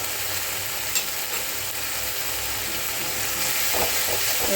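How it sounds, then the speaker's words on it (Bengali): Onion and green chili paste sautéing in a pan with salt and turmeric for a Bengali pomfret fish curry, a steady broad sizzle running the whole time with a few soft stirring scrapes near the end, no talk. "ভালো করে কষাতে হবে শুধু পেঁয়াজ আর কাঁচা লঙ্কা বাটা"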